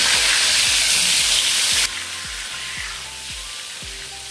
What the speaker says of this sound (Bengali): তেলের মধ্যে পটলগুলো দিয়ে পটলগুলো একটু ভেজে নিতে হবে